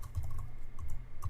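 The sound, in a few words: typing a command on a computer keyboard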